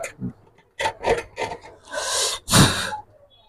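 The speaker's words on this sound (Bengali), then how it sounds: "এর জন্য আমাকে একটু এখানে ঘষে নিতে হবে, ঘষে মাথাটা সুন্দর করে বের করে নিতে হবে।" Close, dry rasping strokes as a wire end is scraped clean with a tool during a rice cooker repair, several short scrapes followed by two longer, louder ones, with no talking.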